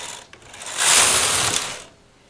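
A knitting machine carriage is pushed across the bed with some needles in hold position, producing a loud, close, ratcheting mechanical rush that rises, holds for about a second, then fades as the pass ends.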